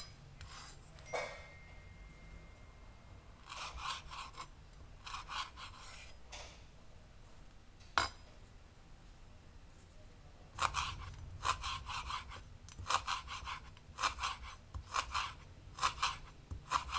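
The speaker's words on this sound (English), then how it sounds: "Remove the midrib from the kaffir lime leaves and thinly slice the leaves." A knife thinly slicing kaffir lime leaves on a board, heard as bursts of quick, close scraping cuts separated by pauses, with an isolated sharp tap midway.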